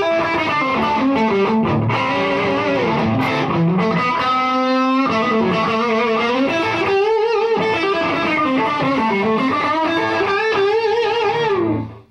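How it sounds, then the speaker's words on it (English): Gassed-up single coil electric guitar played through a Swanpro RCS 20 amp, loud and distorted with sustained chords and lead notes ringing continuously for about twelve seconds, punchy and close with no talk. "What I'm going to show you first is a gassed-up single coil sound."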